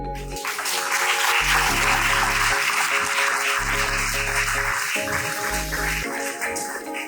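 Audience applause after a talk at an AI event, steady dense clapping that fills the room for several seconds, with a low hum and some background noise underneath.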